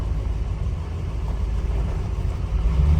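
A 1969 Camaro Z28 engine, carbureted and running rich, idles with a steady low rumble. It is close and fairly loud, with no talk over it.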